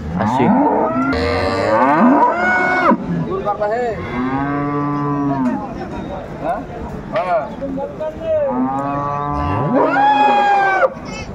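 Dairy cows and calves low repeatedly at a crowded cattle market in Dinajpur, several long moos spread across the stretch, some near and some farther off, with people talking in the background.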